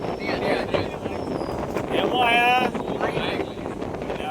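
Strong wind roars and buffets the microphone steadily, with faint mechanical whines partway through and no clear speech.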